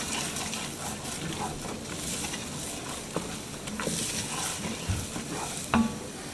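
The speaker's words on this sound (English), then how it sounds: "Then we're going to drop in our onions. Just want to saute that down until it starts to sweat." Onions sauté in oil in a pot for lasagna soup, giving a steady close sizzle with occasional stirring scrapes and small clicks over the continuous frying hiss.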